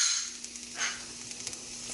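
Onions sautéing in coconut oil in a pan with turkey sausages to follow, a steady close sizzle with one brief louder hiss partway through and faint stirring clicks.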